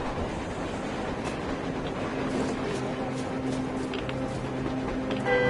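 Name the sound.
train passing in the video game Metro Exodus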